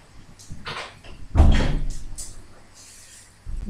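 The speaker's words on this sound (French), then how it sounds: "Je vais aller ouvrir la porte" A house door opening indoors to let a cat in: a loud mid-clip thump and rattle of the door, with softer handling clicks before and a low knock near the end, heard alone without talk.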